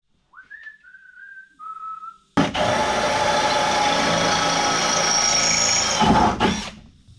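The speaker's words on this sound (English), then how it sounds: "technically I know you're not supposed to drill right through it" A few short whistled notes, then a loud power drill whines steadily for several seconds drilling through steel before cutting off abruptly.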